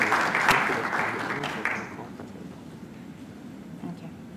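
Guests at an awards dinner applaud, a burst of clapping that is loud at first and fades out after about two seconds into room murmur.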